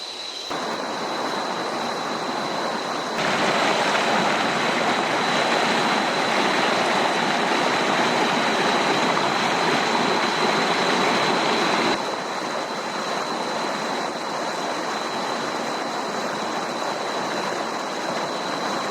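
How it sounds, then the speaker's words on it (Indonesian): Kuta Malaka waterfall in a dense forest in Indrapuri, Aceh Besar, pours continuously with a loud broadband rushing roar and a thin steady tone riding over it. "aliran air terjun ini"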